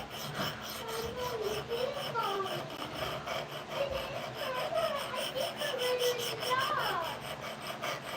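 A CPM Cruwear steel knife being sharpened on an $80 guided sharpener: close, continuous rasping scrapes of blade on stone with faint squeaky overtones, steady throughout with no talking.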